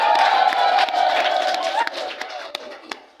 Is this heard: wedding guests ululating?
yes